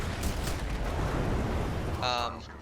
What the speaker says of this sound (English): the explosion from these two will kill him